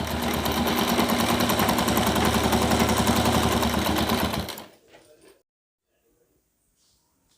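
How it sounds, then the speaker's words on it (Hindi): A sewing machine runs steadily, stitching one side of a six-panel petticoat in a fast, even whir for about four and a half seconds before stopping abruptly into near silence. "देखिए, ये हम एक तरफ का सिलाई लगा रहे हैं।"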